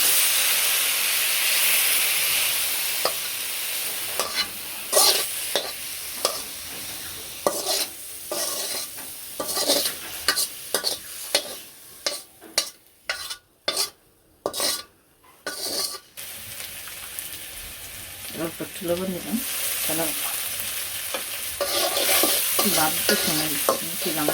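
Onion and green chillies fry in a pan, giving a steady close sizzle with repeated stirring scrapes and clatters, which briefly break into sparse clinks before the constant frying hiss returns.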